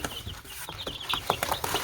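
Backyard chickens cluck in short, scattered bursts close by, mixed with rustling and handling noises.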